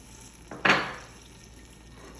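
Fried fish and its frying oil tipped into a pot, a sudden close splash and hiss that fades over about half a second, then quiet background.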